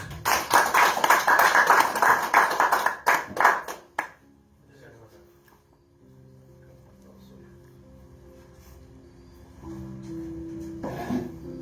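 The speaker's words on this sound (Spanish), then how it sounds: "lo recibimos con un fuerte aplauso" Dense applause from a crowd for about four seconds, then fading into quiet room sounds with faint music-like tones.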